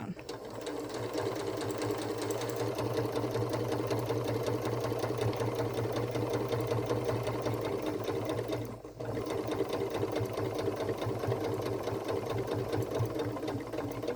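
A sewing machine stitches a paw-shaped Christmas stocking with toes, a close, steady mechanical whir running nearly continuously, with one brief pause near the middle before the stitching resumes.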